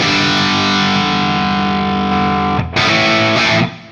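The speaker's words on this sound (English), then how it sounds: "That sounds like a classic Marshall tone stack to me." Electric guitar played through a modded Marshall DSL100H amp with the tone shift switch, a loud sustained distorted chord ringing out, briefly cut and then struck again before fading.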